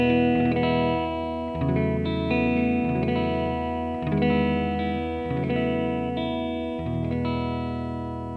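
An electric guitar plays a clean tone through a Yamaha THR5 practice amp with a good amount of reverb, strummed chords ringing out with sustained bright notes, close and steady, without any talking.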